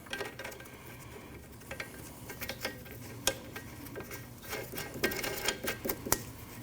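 A nut is fitted onto a bolt on the rear suspension of a 2003-2008 Subaru Forester, giving close, irregular metallic clicks and taps that bunch together near the end, with no one talking.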